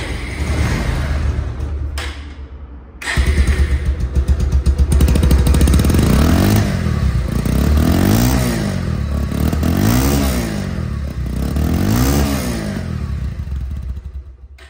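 A second-hand Bajaj Pulsar double disc ABS motorcycle runs close by with a steady, loud engine drone that rises and falls in slow, repeated revs, with a brief drop near the start before it settles.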